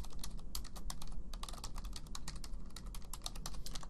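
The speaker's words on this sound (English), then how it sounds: "And then type in your email address." Rapid, continuous typing on a computer keyboard while entering an email address for an online account signup, with dense irregular key clicks running throughout, close and steady, with no talking.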